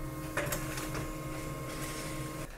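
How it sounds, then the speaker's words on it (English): A Pantum P2500W wireless laser printer starting up to print a document, with a steady mechanical whir and hum, a few clicks and rattles early on, then the motor noise cutting off near the end. "this printer is quite quick to start printing"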